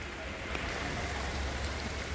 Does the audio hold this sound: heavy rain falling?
yes